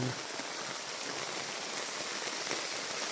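Heavy rain pours down steadily in a flooded neighborhood street, a dense, even hiss of drops striking surfaces, close and continuous with no pauses.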